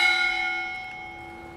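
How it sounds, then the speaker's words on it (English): A single memorial bell at a 9/11 remembrance ceremony, its clear ringing tone already sounding and slowly fading away over a second and a half. "We next ring the bell to remember those in the attack on the Pentagon."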